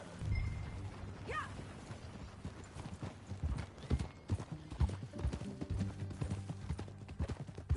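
Horse hooves clip-clop steadily at a walking pace in Red Dead Redemption 2, close by, with an occasional whinny and soft background ambience.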